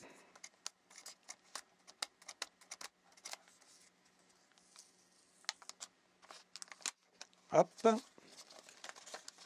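Packaging of a Blackview MP80 mini PC crinkles and rustles in short, quiet bursts at close range while it is being unboxed, with a brief spoken word near the end.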